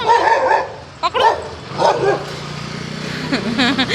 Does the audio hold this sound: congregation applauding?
no